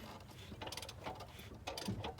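Faint ratcheting and mechanical clicks as an engine with a worn piston rod bearing is cranked over by hand, a few quiet bursts of ratchet strokes close by with no talk.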